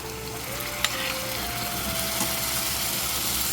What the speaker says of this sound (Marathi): आता ह्यामध्ये घालूया आपण टॉमॅटो आणि कोथिंबीरची प्युरी